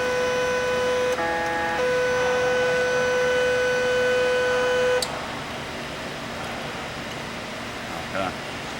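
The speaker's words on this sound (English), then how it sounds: "The machine told me that we're changing modes, so it's going to reinitialize" A K&S 4523AD wire bonder reinitializing after a mode change emits steady electronic tones, one pitch shift midway, over a constant machine hum, then the tones stop and only the background hum remains.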